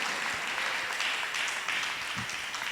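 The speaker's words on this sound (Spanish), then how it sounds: "Dale un aplauso al Señor" A church congregation applauds during a Spanish-language service, a dense and even wash of clapping that holds steady at a constant level throughout.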